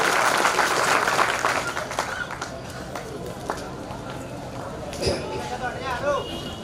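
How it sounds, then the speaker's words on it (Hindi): An audience at a Lavkush Jayanti gathering claps to welcome a speaker, dense sustained applause that is loudest at first and gradually thins out over several seconds. "सभी जोरदार तालियों से स्वागत"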